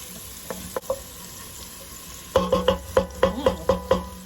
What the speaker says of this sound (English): we're going to cook this until our onions become translucent and our garlic